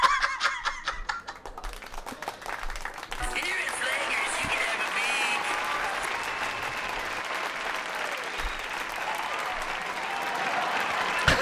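A studio audience applauds at the close of a comedy banter podcast's final episode, loud sustained clapping with some chuckles mixed in, following a short stretch of talk at the start.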